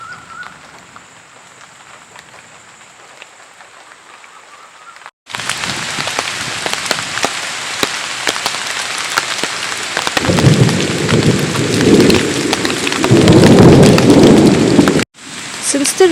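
Heavy rain pours on a farm with plowed vegetable fields, a faint patter at first, then a loud dense downpour with low rumbling thunder, near and continuous.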